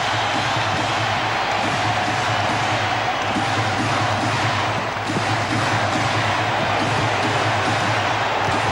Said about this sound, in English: Now the crowd trying to urge the Cavaliers on.